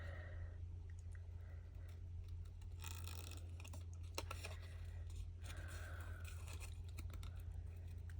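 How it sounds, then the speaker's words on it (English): Scissors trim excess card stock during a stamping craft session, with quiet, close snips, crunches and paper rustles scattered through an otherwise hushed stretch. "I like to cut the excess card away so then I'm not fighting with it"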